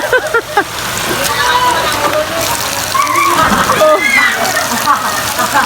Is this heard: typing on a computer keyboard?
no